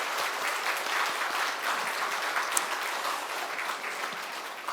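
A church congregation applauds at a Sunday worship service, broad sustained clapping from many hands filling the room steadily for several seconds without letting up.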